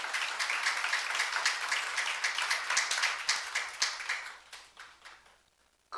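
A church youth-group congregation applauds together, a steady patter of many hands clapping that fades gradually over several seconds into near silence.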